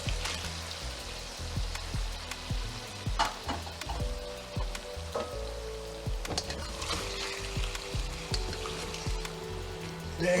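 Chicken stir fry sizzles steadily in a hot pan as green onions are added, with a close, constant frying hiss and occasional clinks of stirring.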